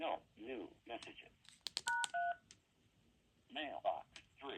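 Panasonic KX-TG5243 cordless phone keypad sending a short run of clean DTMF tones, several quick beeps in a row, with someone talking before and after them.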